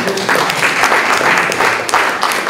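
An audience at a French political club event bursts into dense, loud applause that carries on throughout, swelling in waves with no voices above it.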